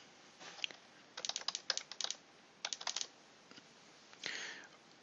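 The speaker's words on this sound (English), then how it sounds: "you can type that information" Fingers type on a computer keyboard in bursts of quick, light keystrokes with short pauses between them, ending with a longer soft clatter, close and quiet with no talking.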